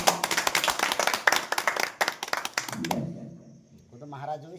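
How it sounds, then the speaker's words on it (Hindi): At a devotional gathering in a guru's home, an audience claps briskly for about three seconds in quick, close handclaps; the clapping then stops and someone speaks. "एक बार ताली बजा दो"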